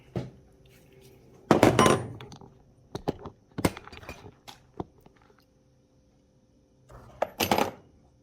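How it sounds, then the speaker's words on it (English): Sharp metallic taps and clinks from a small hammer striking a metal part of a 54cc chainsaw, in irregular bursts with pauses between. "I got a little hammer here."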